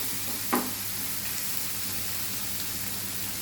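Sliced ridge gourd sautéing over high heat in a pan gives a steady, soft sizzle close by, broken once early on by a single brief scrape of a spatula, with no voices.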